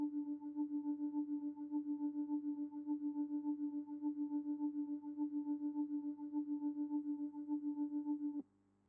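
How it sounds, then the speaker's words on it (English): A tremolo lead synth for an amapiano-style Afro beat made in FL Studio holds one pure, steady tone that pulses quickly in volume, playing alone for about eight seconds before stopping abruptly. "Then another lead called tremolo signal, very used in amapiano type beats."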